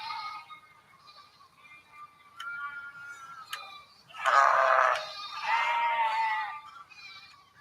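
Changthangi Pashmina goats bleating in a cold high-altitude region: several wavering bleats, a few thin calls early, then two louder, nearer overlapping bleats near the end.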